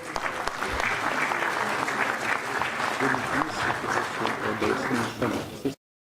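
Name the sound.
audience applause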